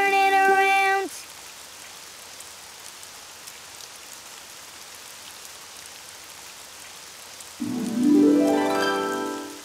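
Rain falls steadily outside as a soft, even hiss, with animated musical tones at the start and a rising melodic phrase near the end.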